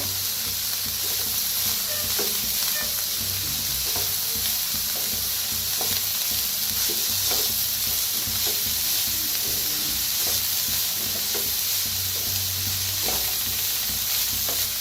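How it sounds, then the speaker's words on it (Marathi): Onion, cauliflower and cabbage for momo filling fry in a pan, with a dense, steady hiss and sizzle broken by repeated stirring scrapes, close and continuous. "त्याच्यातच टाकूया आपण फुलगोबी, हे पत्ताकोबी, त्याला ते भाजून घेऊया"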